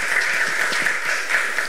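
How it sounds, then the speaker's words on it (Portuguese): Audience applauding at the close of a talk, a short steady patter of many hands clapping at moderate loudness, continuous with no pause. "Pode aplaudir."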